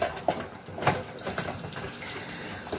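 A tap runs to fill water for mopping the floor, a close, steady splashing and gushing with a few brief knocks at the start.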